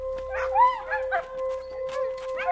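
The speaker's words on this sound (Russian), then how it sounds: "Поки встановлювали особу, почули голосне скавуління собак." Several dogs whine and yelp loudly in a park, their high wavering cries rising and falling in overlapping bursts against a steady tonal hum.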